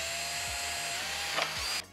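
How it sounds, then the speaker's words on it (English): Power drill boring through the bottom of a prop tank for rivets, a steady close whine with a pulsing low motor tone, stopping abruptly near the end. "we're going to drill and rivet one of them elastics to it"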